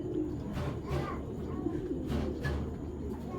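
Tournament flying pigeons coo in soft, repeated low bursts at about one-second intervals, fairly close against a steady background hum, with no talk.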